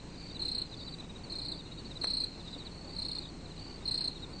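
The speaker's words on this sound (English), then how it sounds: "It's a cricket." A cricket chirps at night in a camping scene, its bright pulsed trills repeating about once a second, steady and moderately close over a quiet low background hum.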